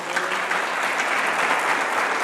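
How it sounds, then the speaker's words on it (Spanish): A church congregation claps together during a Spanish-language sermon, a continuous even wash of many hands at moderate level with no voices. "Denle un aplauso al Señor."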